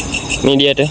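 A belalang cengkek grasshopper chirps close by in short, bright, cricket-like trills, heard during a night search for beetles and other animals while someone speaks over it.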